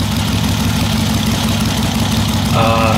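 A Harley-Davidson Sportster Ironhead motorcycle idles steadily nearby, its low, lumpy engine rumble constant throughout with a slight rise near the end.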